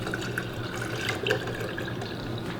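Water is poured over freshly made homemade butter to wash it, a steady close splashing and trickling that runs without a break.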